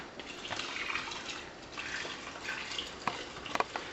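Sumac berry juice is poured through an old shirt into a glass jug, a soft trickling, splashing pour with scattered drips and a couple of small clinks, fairly quiet and close.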